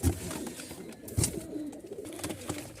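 Pigeons packed in cartons for shipping coo and rustle at close range, with soft throaty calls repeating irregularly over a steady low murmur and occasional shuffling knocks.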